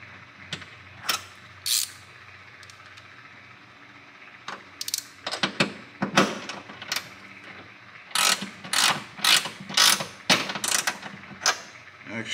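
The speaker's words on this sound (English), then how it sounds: "Then go to your 11 millimeter socket. Helps to have a deep well, of course." A ratchet turns an 11 mm deep well socket while fitting hood struts on a Toyota Tacoma. Close, crisp clicking comes in short bursts, growing into quick repeated runs toward the end, with no talk.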